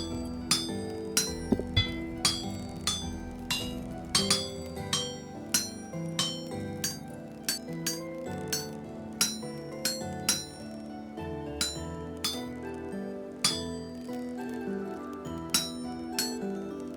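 Metal is hammered and smithed on an anvil in the Vintage Story video game, sharp ringing clinks repeating in an uneven rhythm over a low crackling background for many seconds, with no talk.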